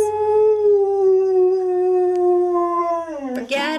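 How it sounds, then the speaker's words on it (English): A dog howls along to fire truck sirens in one long, steady, wavering note for several seconds, ending in a brief rising yelp; near and loud, with no sirens audible. "The trucks drive by with their lights and sirens growling. Every time we hear them, Jameis starts."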